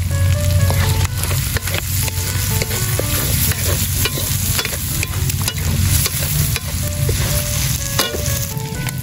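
Red and green chilies fry in a pan, giving a loud, dense, continuous sizzle with constant stirring and scraping up close and no talk.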